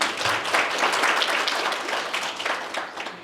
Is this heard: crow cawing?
no